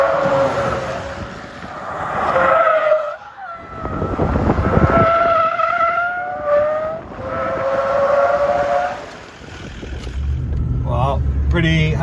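Toyota Landcruiser fitted with a Terrain Tamer HD brake booster, braided lines and upgraded pads, braking hard so the tyres skid and squeal in tonal bursts over engine and road noise, with someone talking through much of it.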